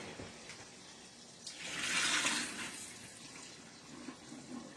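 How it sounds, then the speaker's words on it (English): Cold salt water poured out of a container into a sink, a brief gushing splash swelling in the middle and fading, fairly close against a quiet room. "And I'm going to dump this water out real quick."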